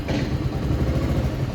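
A Bajaj Pulsar 150 motorcycle started on its electric self-start settles into a low, steady, close engine rumble with faint mechanical clatter for a second or two.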